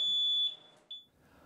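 A smoke or fire alarm sounds a sustained high electronic beep, then a second short chirp after a pause, fairly quiet with no one talking.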